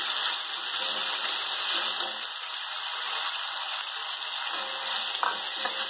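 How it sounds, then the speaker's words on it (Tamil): Sliced onions sauté steadily in hot oil for a Chennai-style vada curry, a dense continuous sizzle close up with a few faint stirring scrapes and no voices. "ஆனியன் நல்லா வதங்கட்டும்."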